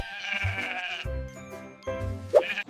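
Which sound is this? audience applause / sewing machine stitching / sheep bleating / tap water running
sheep bleating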